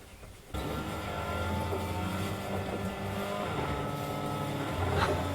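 A car in a video game drives along with a constant engine drone and road rumble. It starts abruptly after a short quiet lead-in, then holds steady at moderate loudness with a slight swell near the end, and no one talks.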